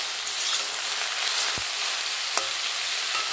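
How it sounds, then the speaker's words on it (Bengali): Water lily stems frying in a pan with mustard, a steady, close sizzle that carries throughout, with two sharp stirring knocks partway through. "নাড়াচাড়া করতে করতে এই শাপলাটা সিদ্ধ হয়ে যাবে, ভাজা ভাজা হয়ে যাবে।"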